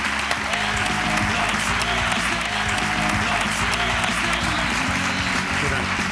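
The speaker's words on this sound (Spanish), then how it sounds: "Un aplauso para él." An audience applauds a guest walking onto the stage at a live interview event. The clapping is loud, dense and sustained for about six seconds, with some crowd noise mixed in.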